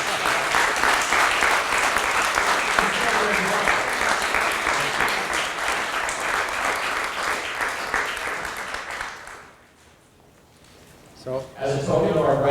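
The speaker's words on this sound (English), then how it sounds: "So let's give you a round of applause." An audience at a political talk event applauds, and the loud, dense clapping goes on for about nine seconds before stopping abruptly. Brief voices are heard after the clapping ends.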